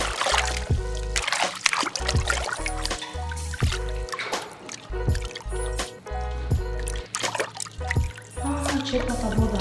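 Water drips off a freshly hydro-dipped PS3 controller after a hot-water bath: a run of faint, irregular drips and small splashes over a low background bed.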